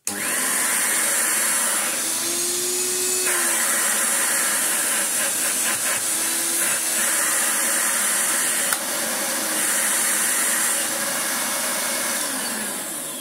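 Hoover Turbomaster U5078 vacuum cleaner running with tool suction, a loud steady hissing roar with a high motor whine, the pitch shifting briefly a few times as airflow changes.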